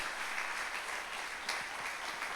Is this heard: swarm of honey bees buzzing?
no